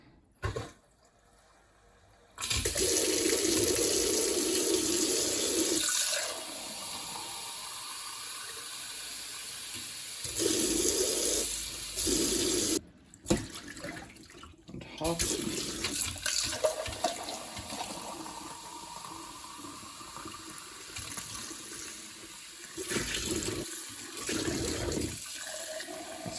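Water running from a Grohe Blue kitchen tap on the regular cold supply, loud steady gushing that stops and restarts several times in bursts.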